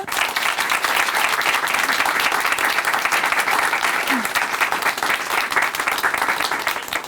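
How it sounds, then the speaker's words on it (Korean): Sustained, dense applause from a church audience fills the whole stretch, steady and fairly loud throughout, after a performer's appearance on a Christian TV program. "다시 한번 큰 박수 보내드릴게요"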